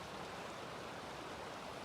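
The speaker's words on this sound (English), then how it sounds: "River's flowing though." Yuba River flowing on a cold morning, a steady soft wash of water heard faintly and evenly throughout with no voices.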